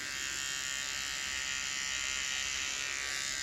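A JRL 1040 hair trimmer hums with a close, steady electric buzz while lining up hair, unbroken and alone for the whole stretch.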